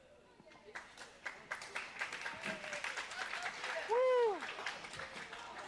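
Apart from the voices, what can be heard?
applause for FCCLA members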